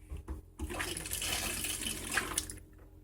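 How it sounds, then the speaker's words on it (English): An off-grid tiny home's water pump runs for about two seconds, a loud rushing hiss of flowing water that starts abruptly, holds steady, and then cuts off. "That's my water pump."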